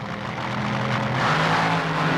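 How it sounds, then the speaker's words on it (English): Nitro drag racing cars of Shirley Muldowney and Connie Kalitta launch off the starting line at the 1980 NHRA Springnationals, a loud, close, sustained engine roar that swells as they pull away, with no speech over it. "It looks like Shirley Muldowney beat Connie Kalita off the starting line."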